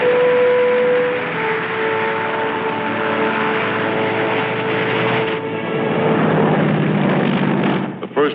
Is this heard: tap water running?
no